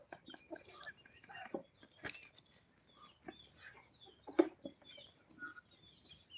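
Free-range country chickens on a farm cluck in scattered short calls, faint and somewhat distant, over a quiet outdoor background with no talking.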